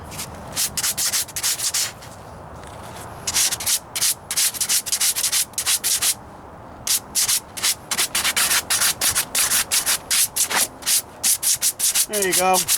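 Hand sanding with 220 grit over spot putty on a Ford Ranger passenger rocker panel: loud, close, rhythmic back-and-forth rasping strokes, pausing briefly between runs, with no talking.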